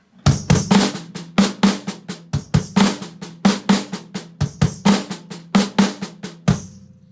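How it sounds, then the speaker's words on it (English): Snare drum beating a repeating triplet figure, the first stroke of each group flammed, sharp dry cracks in groups of three with brief gaps, played alone and close, ending after a final hit. "we're going to add a flam to the first snare drum note."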